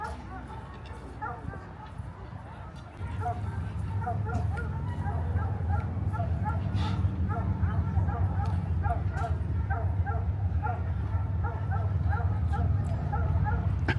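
Plott hounds bay in a steady, rapid chorus of barks at moderate distance, continuing without a break over outdoor background noise.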